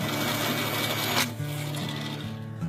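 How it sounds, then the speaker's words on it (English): A bandsaw whines steadily while cutting excess wood off a bow handle, with a brief louder rasping burst before the blade hum settles and continues. "Using the profile lines, excess material is cut off the handle with the bandsaw."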